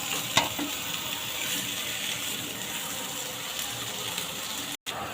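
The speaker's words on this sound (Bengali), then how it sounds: "আর একটা ফ্রাই প্যানে আমার আলুগুলো প্রায় ভাজা হয়ে আসছে" Potatoes fry in a frying pan with a steady, close sizzle and hiss that runs almost unbroken, with one brief dropout near the end.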